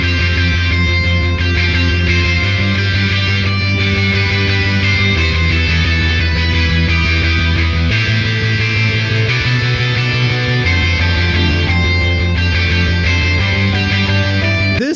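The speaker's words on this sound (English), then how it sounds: "This is more of like a J-rock, kind of like anime sounding rock melody" A J-rock, anime-style rock drum pattern drives a dense full-band mix, steady and loud throughout, with distorted guitars and bass layered over the beat.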